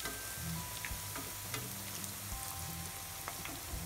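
Piyaju onion fritters, Dhaka Islampur style, fry in hot oil with a dense, even close-up sizzle and bubbling, dotted with small crackles and a few soft spoon taps.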